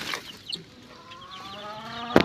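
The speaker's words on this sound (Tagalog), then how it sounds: "Ito na ang kanyang mga sisiw mga boss." Fourteen-day-old Belgian aseel chicks chirp softly at close range in brief high cheeps, with a louder burst of peeping at the very end.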